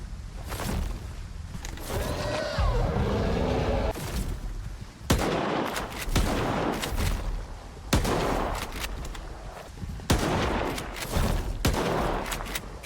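Heavy shotgun blasts loaded with slugs in STALKER 2, a string of loud, sharp reports spaced a couple of seconds apart over a dense layer of game ambience and combat noise.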